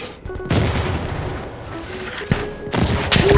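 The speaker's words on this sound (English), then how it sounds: "Barrage complete." Artillery barrage in the shooter game Insurgency Sandstorm: a run of heavy booms and crackling blasts, some close and loud, others more distant, packed together over a few seconds with no voices.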